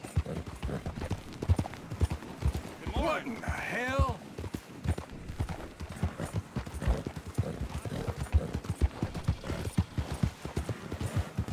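Hooves clip-clop in a steady rapid rhythm as a horse gallops in Red Dead Redemption 2, continuous and close throughout, with a short whinny-like call partway through.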